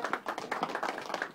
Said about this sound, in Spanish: Aplausos, niños.